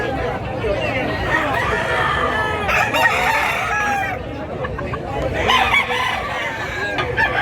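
A 2005-line bullstag rooster, about a year old, crows at a cockfighting-rooster sale in Mantalungon, Cebu. The crowing rises over steady crowd chatter and background noise, with people talking nearby.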